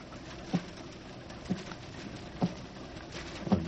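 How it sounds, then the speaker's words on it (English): Four soft, evenly spaced knocks tap on a door about a second apart in a radio drama, quiet and muffled over a faint steady patter of rain. "Sounds like someone is tapping on the door"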